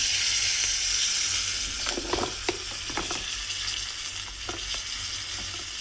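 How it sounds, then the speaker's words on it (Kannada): Curry leaves dropped into hot oil for a rasam tempering give off a loud, steady frying hiss, with a burst of sharper crackles and pops partway through. "ಸ್ವಲ್ಪ ಕರಿಬೇವು ಸೊಪ್ಪನ್ನ ಹಾಕ್ತಾಯಿದ್ದೀನಿ"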